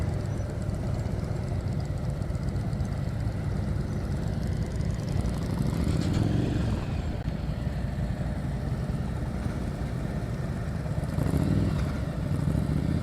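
A motorcycle rolls at slow speed during a riding skills practice session in Georgia, its engine a steady, close, low rumble throughout with small swells in throttle.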